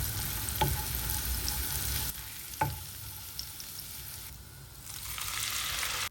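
Pressed garlic fries in olive oil and butter with a continuous crackling sizzle, broken by a couple of sharp utensil clinks and stirring scrapes, moderately quiet and free of voices.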